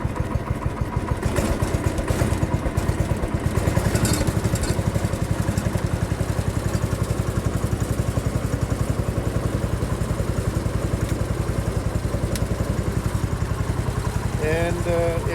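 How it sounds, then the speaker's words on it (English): Motorcycle engines run steadily throughout with a continuous rumbling idle and clatter, mild swells in revs, loud and close, with faint talk in the background. "what we're going to do now is rev them up a little bit and check the functions"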